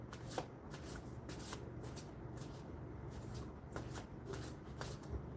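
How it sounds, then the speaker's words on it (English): A deck of cards is shuffled by hand, giving a close, soft run of quick riffling bursts and flutters in an irregular rhythm over several seconds, with no talking. "And I'm shuffling again."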